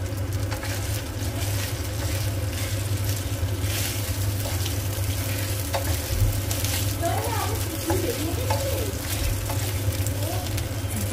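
Onion sizzling in a hot pan, a steady frying hiss throughout with light stirring noises, while a person talks over it.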